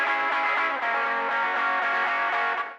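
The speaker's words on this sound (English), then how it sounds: "So I did go in and turn down that intro guitar part" A short distorted electric guitar intro part plays alone, thick and sustained with a gentle pulsing strum, fairly loud, then fades at the end.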